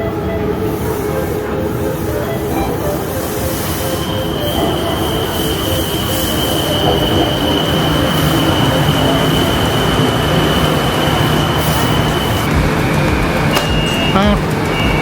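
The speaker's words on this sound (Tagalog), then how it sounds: "Parating na ang train." A train pulls into a Bangkok station, its steady rolling roar carrying a sustained high wheel squeal across the platform, loud and continuous throughout with light chatter nearby.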